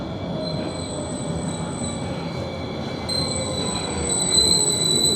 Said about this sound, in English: I hear the light rail coming